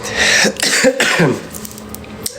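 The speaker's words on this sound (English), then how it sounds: "There's that cough." A close, loud harsh cough with throaty clearing, two or three rough bursts that trail off into quieter breathing.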